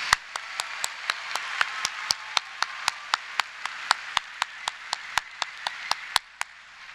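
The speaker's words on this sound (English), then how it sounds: "Okay, we can do our applause now." Steady, evenly spaced sharp claps ring out at a college graduation ceremony, about three per second, crisp and close over a faint room hush, stopping abruptly just before the end.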